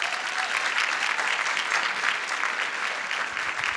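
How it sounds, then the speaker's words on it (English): Sustained audience applause at a museum diaspora dinner fills the whole stretch, a dense, steady wash of many hands clapping at even loudness with no voices over it. "Can we give it a round of applause again for them?"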